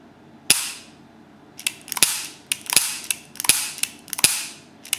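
A Ruger SP101 revolver fired in double action: five sharp, loud shots at a steady pace, each cracking with a bright decaying ring, separated by faint mechanical clicks of the trigger and cylinder.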